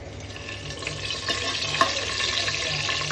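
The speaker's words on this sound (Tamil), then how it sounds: "பட்டை, லவங்கம், ஏலக்காய்லாம் போட்டுட்டாச்சு. அதை கொஞ்சம் நேரம் ஃப்ரை பண்ணலாம்." Cinnamon, cloves and cardamom frying in hot oil for chicken biryani, a steady close sizzle with light stirring scrapes and small crackles, no talk.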